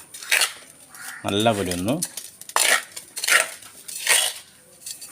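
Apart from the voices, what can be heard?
mixing potting mix of sand and husk in a container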